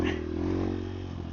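A Honda XR150L motorcycle rides along a dirt trail with its engine holding a steady, close, buzzing drone. The note changes little over the short moment.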